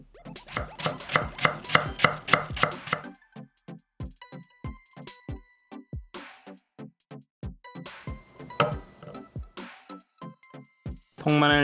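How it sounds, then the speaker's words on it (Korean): Knife slicing a quarter of an apple on a cutting board, a fast run of crisp, close cuts at first, then slower separate slices with short pauses between. "사과 4분의 1개는 저렇게 슬라이스,"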